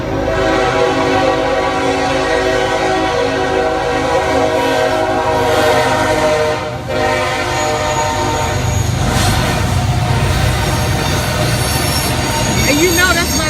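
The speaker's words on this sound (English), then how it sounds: "So we're gonna get a train rolling through there." A train rolls past in Marietta with a continuous rumble and clatter of wheels, a horn sounding over it and occasional squeals, loud and close.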